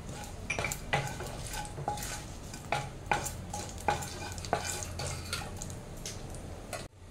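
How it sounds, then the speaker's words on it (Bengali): Whole spices—bay leaf, cardamom, cloves and cinnamon—dropped into hot oil for a Bengali doi katla, with sizzling and repeated sharp clinks of a metal spoon against the pan, close and distinct. "প্রথমে আমি ফোড়নের জন্য দিচ্ছি একটা তেজপাতা, একটা এলাচ, দুটো লবঙ্গ আর একটু দারচিনি।"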